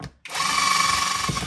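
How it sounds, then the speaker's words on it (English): A power drill bores into a wooden box for a custom Bluetooth speaker, starting after a brief pause with a sharp bite and then a loud, steady high whine held close for over a second. "So I'll drill the first one."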